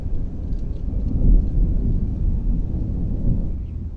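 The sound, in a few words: thunder of a coming storm in a horror film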